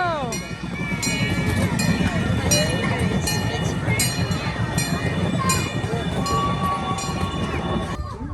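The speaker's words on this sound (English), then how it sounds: "I hear the train a-coming." A small zoo train rumbles steadily past at close range, its wheels clinking, with people talking and calling out over the continuous rolling noise.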